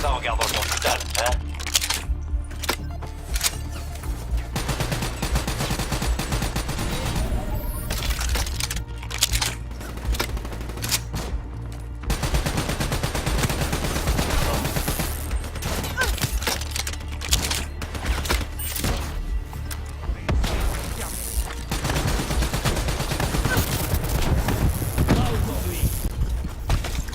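Gunfire in Call of Duty: Black Ops III on PS4, campaign mission in commando mode: scattered bursts of shots mixed into dense game music and effects, with voices speaking over the action.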